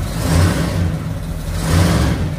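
A custom Ram 2500 pickup's engine revs up twice, each a deep, throaty swell rising from a rough idle and then settling back. The engine sounds loud and close, with no voices over it.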